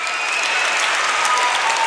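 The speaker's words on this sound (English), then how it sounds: "Freeport fans cheering," Freeport Falcons boys basketball fans at a playoff game applaud and cheer in a steady, dense roar of clapping and crowd noise that fills the whole moment.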